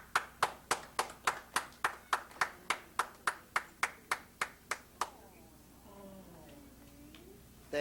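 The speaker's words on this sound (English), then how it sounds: "thank you, Melrose, for that rousing round of applause you gave me today" Evenly paced clapping at a city council meeting, about sixteen sharp, distinct claps in a steady rhythm that stop abruptly, then a faint voice in a quiet room.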